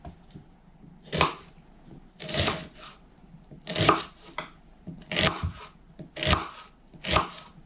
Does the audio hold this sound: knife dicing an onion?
yes